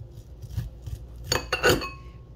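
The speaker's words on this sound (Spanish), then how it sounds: "aquí vamos a cortar los granos con el cuchillo" A kitchen knife slicing corn kernels off the cob, giving several close, soft cuts and knocks, then two louder clattering taps against the board or bowl, with no talking.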